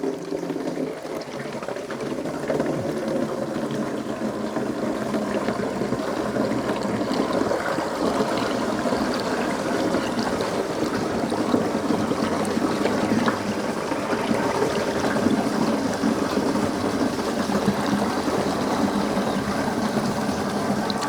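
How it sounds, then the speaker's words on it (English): Salvaged water pours steadily back into a tank on a homestead, a continuous rushing, splashing stream with a bubbling trickle that holds at the same level throughout, with no voices. "pouring our salvage water back in here"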